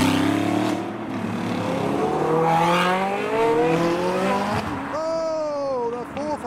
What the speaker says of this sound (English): A V8 Audi R8.